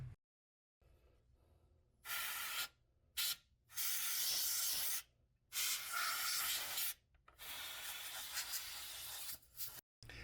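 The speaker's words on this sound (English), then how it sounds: "the sound of spraying canned air through those ports on there" Canned compressed air sprays through a PS5 heat sink in several sharp, loud bursts of hissing, separated by short silences, close up.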